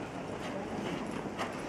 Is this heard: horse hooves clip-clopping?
yes